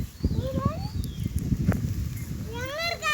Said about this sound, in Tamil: பாருங்க, இது ஒரு குதிரை